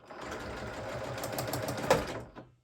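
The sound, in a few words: sewing machine back stitching a pet sling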